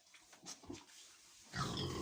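Piglets grunting and snuffling in a farmyard pen at dusk, with short scattered grunts close by, ending in a louder burst of rustling and grunting.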